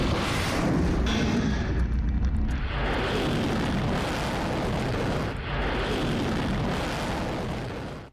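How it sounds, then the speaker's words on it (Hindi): Kalibr cruise missile launching from the Black Sea, a loud, continuous roaring rumble that fills the whole stretch without letup and with no voices. "परमाणु बम दागने की क्षमता वाली कैलिबर मिसाइल ब्लैक सी से दागी जा रही है।"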